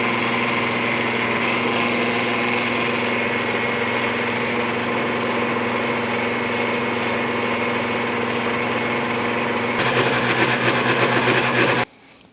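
An electric mixer blends oat cake batter at medium speed, giving a steady, close motor whir with a strong hum. It grows slightly louder and harsher near the end, then cuts off abruptly.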